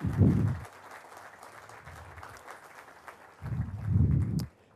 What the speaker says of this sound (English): So maybe a little round of applause for Jim Doolin.